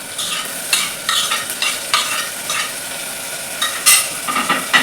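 Chopped tomatoes fry over a high flame in a pan while being stirred, a close, continuous sizzle punctuated by irregular scraping strokes of a spoon.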